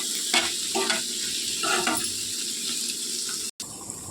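Tomatoes and cashews frying in a pan, a soft steady sizzle with occasional stirring scrapes, close and fairly quiet, with a brief cut near the end.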